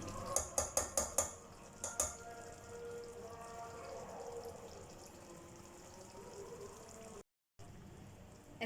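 Yogurt is added to a pot of beef biryani and stirred: a rapid series of sharp metallic clinks from spoon on pot, then a soft, quiet wet stirring swirl, with a brief silent gap near the end.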